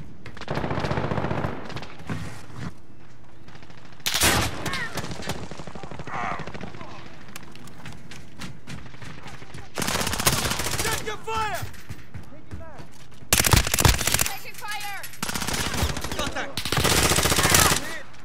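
Bursts of automatic gunfire and rapid shots from the video game Call of Duty Modern Warfare come in loud, irregular volleys, with quieter stretches between them and shouted voices over the battle.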